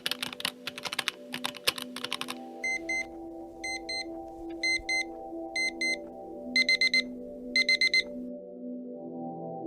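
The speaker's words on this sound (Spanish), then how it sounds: "El sonido de mi despertador empezó a sonar a las 7:30." An alarm clock at 7:30 goes off in short, repeated electronic beeping bursts, regular and moderately loud, after a few seconds of rapid clicking taps over a low steady hum.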